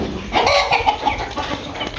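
Chickens clucking near a farmyard where birds are being fed, a few short, fairly close clucks in rapid succession with no talk over them.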